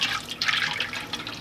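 Liquid soap ingredient poured into a container while making soap by hand, a steady trickling, splashing stream close up with short bursts of louder flow, no voices.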